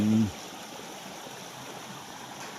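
A clear stream in the middle of a forest flows with a soft, steady rushing wash, following a brief voice at the very start.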